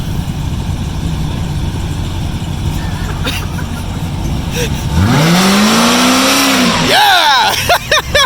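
A muscle car at a cruise event revs hard for a burnout, the engine roaring up in a rising sweep and then cutting into sharp throttle blips, loud and close over crowd noise with a shout.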